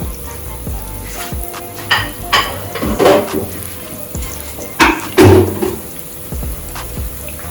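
Corned beef sautéing in a pot gives a soft sizzle with intermittent scraping stirs and clanks, close by and moderately loud, swelling in a few bursts.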